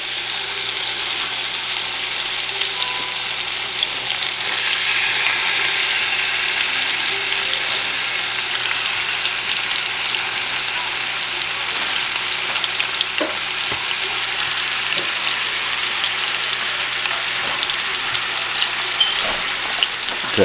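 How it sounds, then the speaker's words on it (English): Oxtails browning in a hot pot give a steady, loud, even sizzle and crackle that holds for the whole stretch, with occasional pops and no talking. "I'm gonna put my oxtails in there. I'm not cooking, I'm just browning them."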